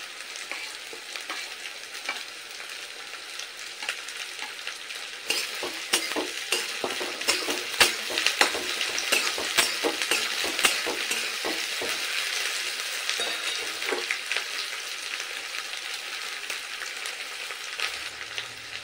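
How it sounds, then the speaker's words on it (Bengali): Chopped capsicum and green chili pieces stir-fried with onions in oil, a continuous close sizzle broken by frequent clicking spatula strokes against the pan through the middle, no voices. "ক্যাপসিকাম আর কাঁচা লঙ্কা 1 মিনিট একটু নেড়ে নিয়েছি।"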